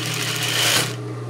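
Sewing machine running a short steady stitch along a scarf hem with bias binding, a close, even motor whir that stops abruptly after about a second.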